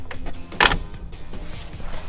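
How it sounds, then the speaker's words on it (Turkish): The aluminum door of a Mercedes Brabus G63 AMG is pushed shut, giving one sharp, solid latch clack midway with faint mechanical rattles around it. "Güraç şu kapıyı bir ittirip kapatır mısın sana zahmet?"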